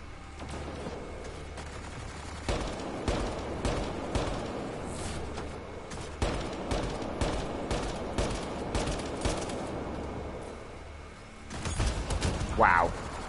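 Automatic turret gunfire in the sci-fi shooter Mass Effect: Andromeda, loud rapid bursts crackling repeatedly over roughly ten seconds, with other combat noise mixed in and a brief voice near the end.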